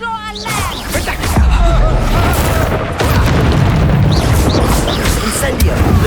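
A fire spell cast in the video game Hogwarts Legacy bursts out as a loud, sustained booming whoosh, dense and rumbling, layered with game effects and a voice calling out over it.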